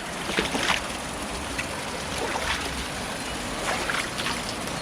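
Steady rushing water pouring over stones, a loud continuous wash with bright splashy bursts, close by and without voices.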